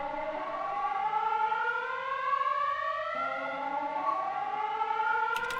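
A rising and falling storm siren from the video game Pacific Drive wails continuously, a long steady tonal howl with layered harmonics that holds alone throughout, briefly shifting pitch midway and ending with a short click.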